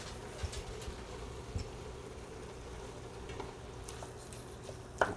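Garlic fries in a pan for a keto chili salad, giving a faint, steady sizzle with a few soft clicks of a utensil.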